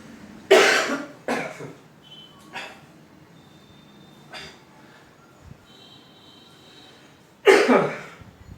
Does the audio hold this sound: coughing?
yes